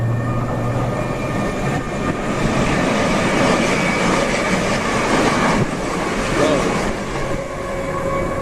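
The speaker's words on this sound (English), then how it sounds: "Oh, there's a train coming. Other side." A train rumbles steadily close by as it passes through Angel Road Station, a broad, continuous roar with a few faint rattles and clacks rising above it, while a voice speaks briefly.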